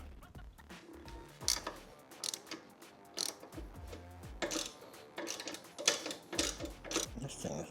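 Ratcheting clicks and metallic tool noises come from removing a T40 Torx screw on a bracket while installing a tri bar eliminator harness on a 2023 Harley-Davidson Road Glide motorcycle, with irregular bursts of ratchet and hardware handling at close range.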